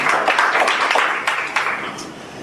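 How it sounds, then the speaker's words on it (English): An audience at a district attorney candidate debate applauds, brief, loud and dense clapping that fades over a couple of seconds. "clap for him"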